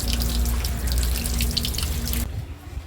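Taro leaves being washed under steady running water, a continuous close splashing flow that cuts off near the end, leaving quieter room sound.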